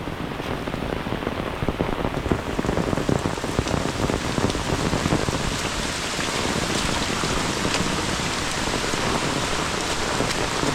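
A loud, unbroken roar of heavy monsoon rain lashes surfaces up close in Khed, Ratnagiri, in the Konkan, with dense spattering drops throughout and nobody speaking.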